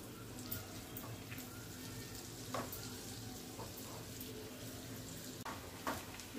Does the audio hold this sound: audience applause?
no